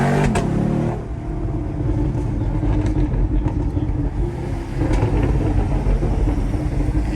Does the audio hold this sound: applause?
no